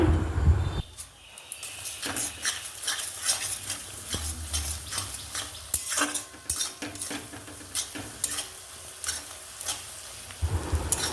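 Fried onions with a little sugar being stirred in a pan for kabri chhola and mata ghugni, a spoon scraping and clinking against the metal in uneven strokes over a steady sizzle, close and clear, with no voices.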